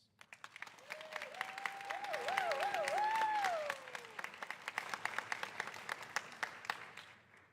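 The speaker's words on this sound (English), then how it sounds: "Please give your faculty a round of applause." An audience at a nurse pinning ceremony applauds the nursing faculty: steady, dense clapping that builds and then thins, with a brief high whistling tone rising over it near the start.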